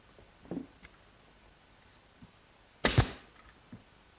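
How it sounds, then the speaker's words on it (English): A brad nailer pins oak bookcase frame joints with 5/8 inch brads, giving a few sharp clicks and one louder snapping shot in a quiet workshop. "I'll pin each joint with some 5/8 inch brads."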